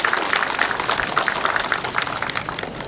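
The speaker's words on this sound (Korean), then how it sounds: "여러분 큰 박수 한번 부탁드리겠습니다" An audience claps steadily at a farm cooperative equipment rental office opening ceremony, a dense and sustained patter of many hands heard up close.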